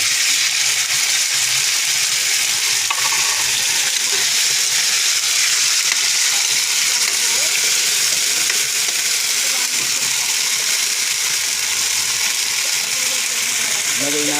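Sardines frying in a pan give off a steady, loud sizzle and hiss that runs unbroken from start to finish, with no voices on top.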